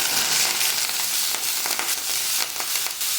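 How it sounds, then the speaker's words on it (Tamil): Chopped ginger sizzles and fries in hot coconut oil in a pan, a loud, steady hiss close up, broken by a few stirring scrapes and crackles. "இப்போ கட் பண்ண இஞ்சியை நான் தேங்காய் எண்ணெயில் போட்டு வதக்க போகிறேன்."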